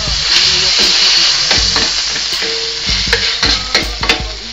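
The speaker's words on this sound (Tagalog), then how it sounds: "Halo lang ulit natin." Beef frying with oyster sauce in a pan, stirred with steady loud sizzling and hissing, broken by repeated clacks and scrapes of the utensil against the pan.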